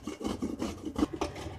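Rough, rhythmic scraping and rasping strokes from a neighbor's renovation work, close by and fairly loud, like carving or sanding wood, repeating several times.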